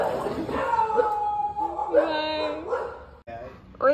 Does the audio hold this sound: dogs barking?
yes